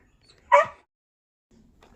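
A dog gives a single short, sharp bark or yip while being fed outdoors. It sits alone in near silence and is followed by faint rustling.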